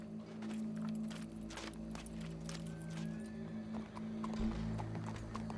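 Horse hooves clip-clop at a steady walking pace in the Red Dead Redemption 2 video game, fairly close and moderately loud, over a low ambient hum with occasional faint whinny-like tones.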